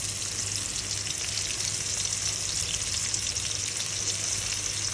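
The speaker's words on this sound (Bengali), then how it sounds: "তেলটা গরম হয়ে গেছে। এখন আমি এর মধ্যে দিয়ে দিলাম পেঁয়াজ কুচি" Chopped onion fries in hot oil with a loud, dense, unbroken sizzle that holds steady for several seconds over a faint low hum, and no one talks.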